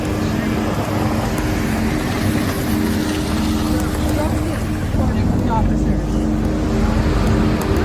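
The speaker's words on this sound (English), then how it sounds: "Car struggling to get through." A car pushing through congested street traffic, with engine and road noise steady and loud throughout, under a busy mix of voices and background street sound.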